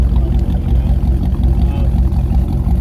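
A 1932 Ford Roadster engine with a Miles cam runs steadily, giving a loud, deep, rumbling idle that stays close and even throughout.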